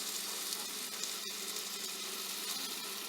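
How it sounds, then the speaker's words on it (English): Plant-based chicken sizzles and fries in a hot skillet, giving a steady, close, hissing crackle throughout with no voices. "now we're going to put the plant-based chicken in the skillet, and it is hot"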